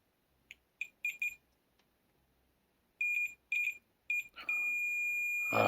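A multimeter's continuity beep while testing a fuse on a water-damaged Nintendo DSi: a few short high beeps, then a long steady tone near the end.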